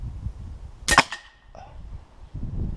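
A Black Ops Sniper air rifle fires a single H&N Crow Magnum pellet with one sharp, close crack and a short metallic ring, followed by quiet outdoor background.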